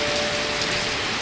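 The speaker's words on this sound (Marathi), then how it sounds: "पाऊस मोप पडते आणि वारो पण मोप सुटलेलं आहे" Heavy monsoon rain with strong wind on the coast at Bankot, a dense, steady roar of falling rain that fills the scene throughout.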